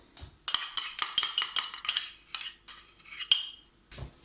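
A spoon scrapes and clinks against a bowl while rapidly mixing yeast and warm water into a small bread dough, a quick run of repeated close stirring strokes with short pauses.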